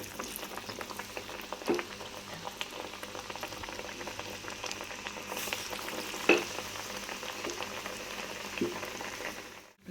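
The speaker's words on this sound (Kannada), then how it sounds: "ಈ ಥರ ಒಂದು ವಿಳ್ಯದೆಲೆ ತೊಗೊಂಡು ಈ ಥರ ಒಂದೊಂದಾಗಿ ಈ ಥರ ಅದಕ್ಕೆ ಬಿಡಬೇಕು ಎಣ್ಣೆಯಲ್ಲಿ" Chana dal masala vadas fry in hot oil with a steady, soft bubbling sizzle and occasional small pops and crackles. The sound is fairly quiet and close, with no voices.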